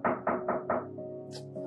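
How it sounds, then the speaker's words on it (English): Knocking on a door in a Nigerian movie scene: four firm, evenly spaced knocks, close and loud, then a short high ringing tone in a quiet room. "Hold on, there's someone at the door."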